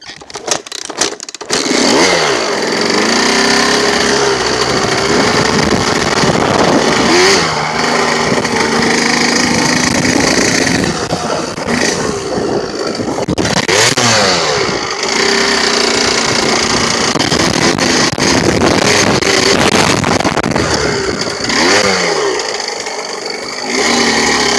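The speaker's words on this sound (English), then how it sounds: "Let me see if I can get the bike started again." A dirt bike engine runs loud and close, a rough continuous rasp with rising and falling revs and throttle blips through most of the stretch, with no talk over it.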